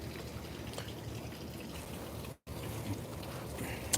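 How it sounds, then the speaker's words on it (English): Water from a garden hose runs steadily into a filter system, a continuous broadband rush with one brief dropout midway and a faint click near the end. "So we got water coming into a system here."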